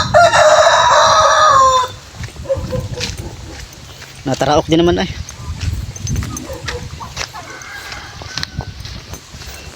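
A rooster crows loudly and close at the start, followed by scattered chicken clucks and rustling while people talk nearby in a rural outdoor setting.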